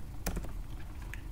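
Computer keyboard typing while a pip install command for a Python package is entered during a Rasa Open Source 2.0 installation; a few sharp close key clicks, irregularly spaced and fairly faint, over a steady low hum, with no talking.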